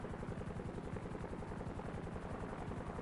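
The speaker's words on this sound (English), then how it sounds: "I guess I could just give them a Swift helicopter." Helicopter in the GTA Online video game, a steady, fairly quiet rotor chop that thumps on without pause throughout.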